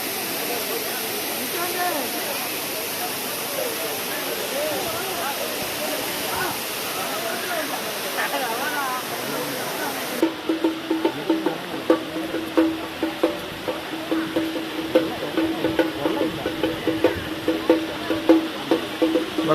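Courtallam waterfall pours in a steady, broad wash of falling water, loud and continuous throughout, with a shift partway through to a rougher, more splashy texture.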